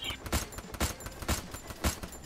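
Gunfire in the mobile battle royale game Free Fire: a short run of evenly spaced, punchy shots, roughly four or five bursts about half a second apart, fairly soft overall.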